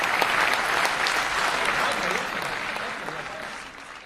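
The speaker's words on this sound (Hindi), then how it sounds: "एक बार जोरदार तालियों के साथ इकबाल भाई का स्वागत करें" Loud, dense applause from a mushaira audience welcoming a poet onstage, a sustained wash of many hands that gradually thins and softens toward the end.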